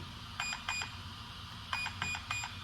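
Two groups of three short, high electronic beeps from an Arrma BLX electronic speed controller in programming mode, in quick succession, separated by a brief pause, over a steady low hum.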